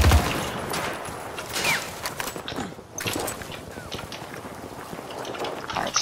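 Dense rapid gunfire in the video game Battlefield 2042, sustained crackling shots and scattered footsteps in a busy battle mix, loud and continuous with a voice talking over it.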